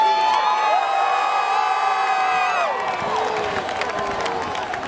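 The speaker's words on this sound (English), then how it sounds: "Are those Met fans booing?" Crowd of Mets fans at a Bernie Sanders rally in New York, a loud sustained roar of voices with whoops, steady throughout under a hall-filling wash of sound.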